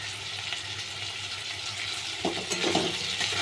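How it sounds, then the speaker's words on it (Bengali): Ginger garlic paste frying in a pan while being stirred, a loud continuous sizzle with scraping of the spoon growing more active toward the end. "দিয়ে এটার সঙ্গে একটু ভালো করে আবার নাড়াতে হবে"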